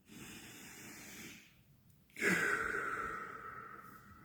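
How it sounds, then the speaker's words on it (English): A person takes a deep, slow breath, a soft airy inhale followed after a short pause by a louder, longer exhale that hisses close to the microphone. "So I'm gonna take this moment to do my breath. I need to breathe."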